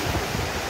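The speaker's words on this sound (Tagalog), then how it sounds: "Dahil sobrang lakas na ng hangin" Strong typhoon wind batters the coast in a dense, steady roar of gusts and crashing surf, loud and close with no break or voices.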